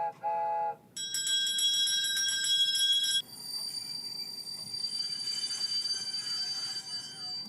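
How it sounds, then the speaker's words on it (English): A train pulls into a station in a film scene, with a clear ringing bell up front followed by sustained high metallic squeal and rolling rail noise, fairly loud and with no voices. "They're at the train station."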